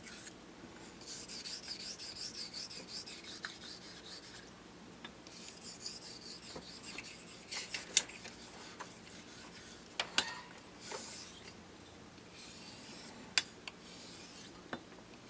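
A Bartmann straight razor blade being honed on a stone gives soft, steady rasping strokes that repeat back and forth, faint and close, with a few small sharp clicks scattered through.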